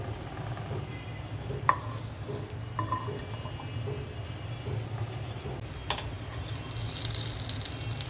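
Potato chops (aloo chop) frying in hot oil at home, a quiet steady hum with scattered soft ticks, pops and drips across the whole stretch, no one speaking.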